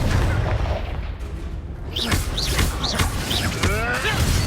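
Confringo fire spell blasts in Hogwarts Legacy on PS5: a run of sharp magical whooshes and bursts with rising and falling tonal sweeps, loud and close over steady game ambience.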